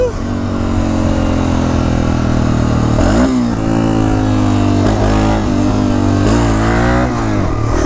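BMW GS650 motorcycle engine under riding, a loud close mid-pitched drone that rises and falls through several revving surges, with a voice speaking over it.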